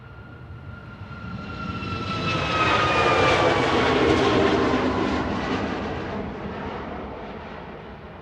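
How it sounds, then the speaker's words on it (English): A TUI Boeing 737 MAX 8 operated by SmartLynx takes off at Manchester Airport for Faro. Its jet engine roar swells over a few seconds, peaks loud with a high whine, then slowly fades as it climbs away. "taking off in parallel is TUI, operated by SmartLynx, 9H ETA with flight 2750 to Faro."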